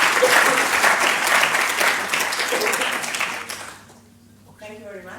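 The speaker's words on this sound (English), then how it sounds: "please give her a big, great applause" Audience applause at a summit presentation, a loud, dense wash of clapping that fades after about four seconds, followed by a brief stretch of talk.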